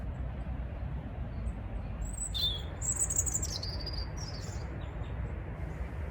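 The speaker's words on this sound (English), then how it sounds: "Here's a robin loudly declaring its territory." A robin sings a few high, thin warbling phrases in a winter botanic garden, moderately distant over a steady low rumble of background noise.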